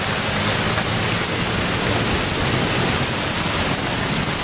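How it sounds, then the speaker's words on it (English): Heavy rain pours steadily in a dense, continuous hiss with no voices, the downpour close and loud throughout. "Finally raining good."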